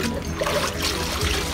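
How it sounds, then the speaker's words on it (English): Aquarium canister filter media being rinsed in water: a soft, steady trickle and splashing of water, fairly quiet and continuous. "You rinse out the media once again."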